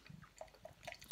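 Pale ale poured from a can gives quiet wet glugs and drips with soft fizzing splashes, faint and close, ending in a slightly louder splash.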